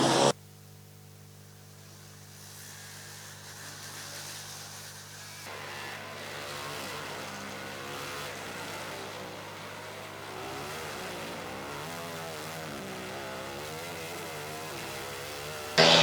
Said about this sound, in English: And the car from Modena pulls out again, sounding much better.